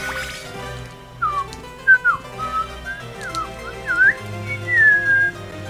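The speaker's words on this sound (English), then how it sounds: "It's hard to not whistle sometimes" Someone whistles a wandering tune in short sliding phrases, fairly close and clear over a low steady hum, with no talking.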